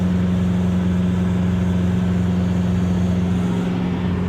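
A 1.9L TDI diesel swapped into a Toyota labors steadily at high boost while towing a heavy trailer, a loud continuous drone with a strong low hum that holds even throughout, no voices.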